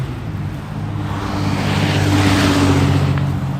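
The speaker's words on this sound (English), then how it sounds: "The guy's going pretty fast in the snow." A car drives fast through snow on a New York City street during a winter storm, its tires hissing through slush and its engine noise swelling as it passes close by.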